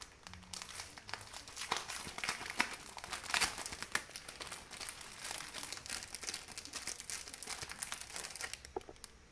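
A small packet of wooden craft tags being opened, crisp plastic crinkling and tearing in irregular bursts close by, quiet overall with no voice.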